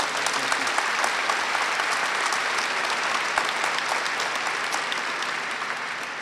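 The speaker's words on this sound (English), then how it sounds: "let's give her a round of applause for all of her great leadership" Sustained applause from the audience at a high school graduation ceremony, a broad, even wash of many hands clapping that holds steady and tapers slightly at the close.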